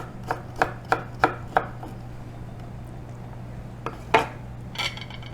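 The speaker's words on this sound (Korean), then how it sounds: "당근도 얇게 채치세요. 이렇게 당근도 이렇게 채치신 다음에" A knife julienning a carrot chops steadily on a cutting board in a quick run of five sharp strokes, a pause, then a few more isolated cuts, with a low hum underneath.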